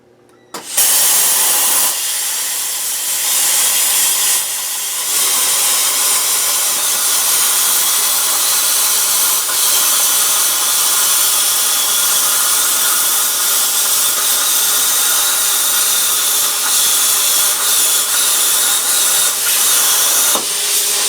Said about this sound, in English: it does use quite a bit of air from your air compressor. So you will hear the air compressor most likely kick on before I finished cutting this